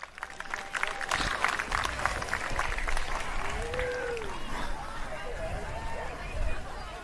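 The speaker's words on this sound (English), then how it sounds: "How about a round of applause, everyone," Crowd applause and cheering at a BMX national race event, a broad steady clapping with babble and an announcer's voice over the public address.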